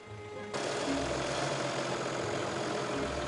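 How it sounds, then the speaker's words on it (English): A vehicle winch straining on a rough 4WD track, kicking in abruptly after a low idle and holding a loud, steady, harsh mechanical whine and drone over engine rumble, without talking. "Oh, listen to that winch. That winch, it sounds horrible."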